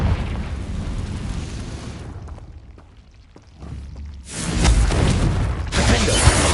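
In Hogwarts Legacy, the Confringo blasting spell sets off loud, rumbling explosions with crackling bursts after a brief quieter moment, booming close and heavy.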